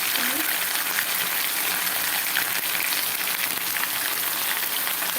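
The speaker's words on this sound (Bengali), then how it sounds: "এবারে আদা রসুনটাকে পাঁচ ছয় মিনিট সময় নিয়ে তেলের মধ্যে ভেজে নিচ্ছি" Ginger-garlic paste fries in hot oil for a chicken bhuna. An even, dense sizzle crackles up close for the whole stretch.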